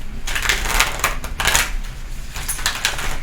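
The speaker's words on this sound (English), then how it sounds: "I will do a little shuffling for you." A tarot archetypes deck is shuffled by hand, the cards giving a crisp papery riffle in repeated bursts of rustling and flicking, close and fairly loud, with no talking.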